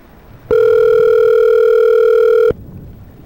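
A loud, steady electronic phone tone sounds for about two seconds, then cuts off abruptly, leaving faint room noise.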